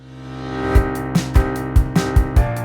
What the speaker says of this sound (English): If we add a reverse cymbal hit on top,